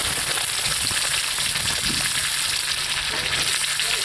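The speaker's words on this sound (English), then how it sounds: "Let that sear. As soon as that side gets seared, I'm going to flip it over and we'll sear the other side." Chuck steak searing in a Dutch oven over a campfire gives a constant, loud, close sizzle and crackle of frying fat with no pauses and no voices.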